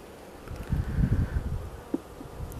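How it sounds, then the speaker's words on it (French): Honeybees humming at an open beehive during an August inspection, a soft low drone that swells briefly and then settles, faint with a single light knock. "c'est là où vous voyez les amas d'abeilles"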